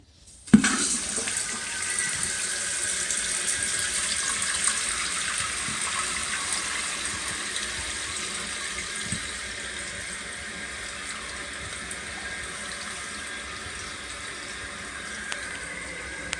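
Water rushes steadily into a toilet tank once the supply is turned on during an Add-A-Flange install, a constant hiss and gurgle starting abruptly and running alone, close and even throughout.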